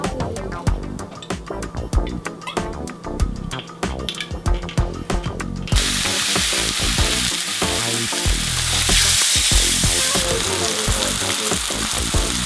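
Fish fries in avocado oil in a pan, a steady close sizzle and crackle that flares sharply louder halfway through, with constant spitting and popping.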